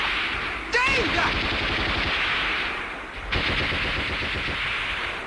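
Sustained rapid machine-gun and rifle fire rattles through a battle scene in a 1961 Chinese war film, dense bursts continuing throughout with a shout cutting in briefly.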